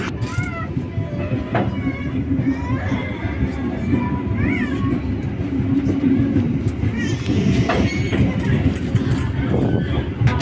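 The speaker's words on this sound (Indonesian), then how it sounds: "Pada pukul 14:01 kereta api komuter lain Merak atau kereta api lokal Merak berangkat kembali dari stasiun Jambu" Merak local commuter train pulling away from Jambu Baru station, a steady loud rumble with wheel clatter and squeals, while a voice talks over it throughout.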